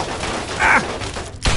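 Automated turrets firing in Fallout 3 at Teddy Bear Junction, a short loud burst of gunfire with a thud near the end, amid game sounds.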